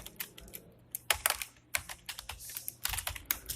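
Code being typed on a computer keyboard, quick irregular bursts of key clicks with short pauses between words, close and fairly quiet, no talking.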